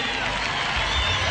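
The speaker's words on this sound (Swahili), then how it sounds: "Tuwapongeze kwa makofi" Crowd applause greeting Deputy President William Ruto at a Mashujaa Day celebration, a steady wash of clapping and crowd noise held at an even level throughout.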